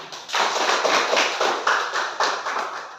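A classroom of students claps after a group presentation on influenza, with brisk, close hand claps in loose rhythmic bursts that keep going for a few seconds.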